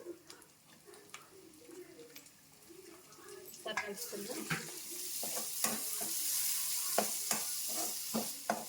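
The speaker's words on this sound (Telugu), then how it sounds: "రొయ్యలు రెండు నిమిషాలు వేగాలండి" Prawns fry with ginger in a pan, starting quiet and then swelling into a louder, steady sizzle punctuated by crisp clicks and scrapes of stirring.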